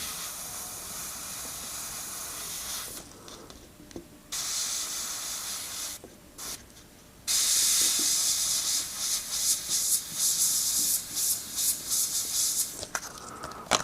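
An airbrush sprays paint onto a baby Jason Voorhees mask in short and long hissing bursts, broken by brief pauses, then a rapid series of choppy sprays, all close and clear.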